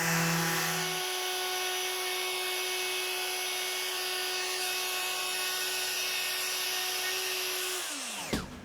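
A Festool shop vacuum runs turned down to its lowest setting, giving a steady close whine and rushing hum for about eight seconds before it switches off and spins down.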